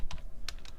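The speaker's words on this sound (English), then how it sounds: "let's type that in" Quick keystrokes on a computer keyboard, a few crisp clicks in under a second, close and fairly soft.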